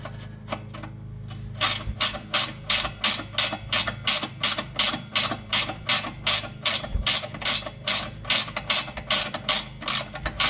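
A ratchet wrench backing off a nut on the sway bar link of a Subaru Outback front end, clicking in a fast, even run of strokes close to the listener, with no one talking.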